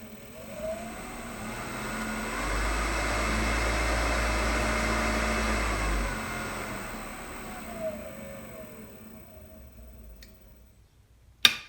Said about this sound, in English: now you can see that the motor is spinning counterclockwise